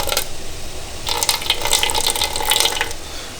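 Boiled water pours into a container from about one to three seconds, a bright splashing trickle, after a quieter watery start; no talking.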